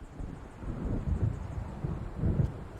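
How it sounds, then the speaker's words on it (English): Low, rolling thunder from a storm coming in within the video game Alan Wake rumbles in soft, swelling waves beneath wind noise, distant and fairly quiet. "It seems there's a storm coming."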